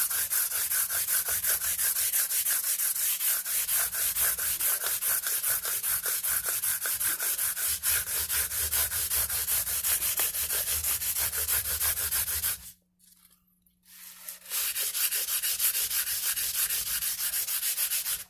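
Guitar frets on a maple neck are filed and sanded to bevel their edges, a steady close rasping rub in long strokes that stops briefly near the end before resuming.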